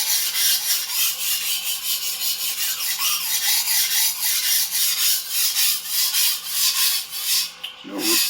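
An antique Dufrense and Co. chef knife is sharpened on a stone in fast, steady strokes, making a continuous rhythmic rasping scrape that runs loud and close for the whole stretch.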